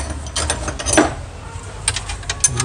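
A ratchet works a 14 mm bolt on the alternator of a 2015 Hyundai Santa Fe or Sonata, giving close, irregular metallic clicks and short ratcheting bursts, with no voices.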